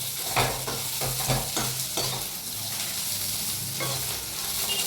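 Chopped onions fry and sizzle in a pan for sambar, browning steadily while a spoon stirs them in quick, rhythmic scraping bursts, close and fairly loud with a continuous hiss underneath.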